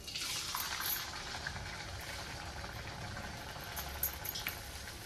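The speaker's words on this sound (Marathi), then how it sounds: "असं हातावर पलटी करायची पुरी कधीही आणि तेलामध्ये सोडून घ्यायचे" Potato puris for a fasting-day recipe sizzle as they are slipped into hot oil, a steady, close bubbling hiss with a few brief louder crackles, and no voices.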